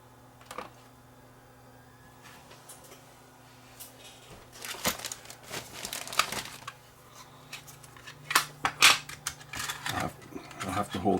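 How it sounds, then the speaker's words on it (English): Tape being loaded into a TASCAM DAP1 portable DAT recorder: scattered mechanical clicks, rattles and handling knocks, sparse at first and busier toward the end, close and moderate over a steady low hum. "Okay, let's just try loading a tape."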